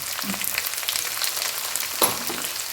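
Beef pickle masala fries with chopped garlic and green chillies in hot oil, a steady close sizzle with a brief stirring clatter partway through, no voices.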